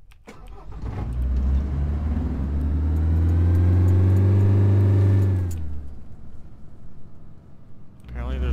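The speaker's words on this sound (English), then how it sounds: "I'm gonna drive a truck." A military truck engine in the tactical shooter game Squad starts up and revs into a loud, deep, rising roar, then drops back to a rumbling idle, with a brief voice right at the end.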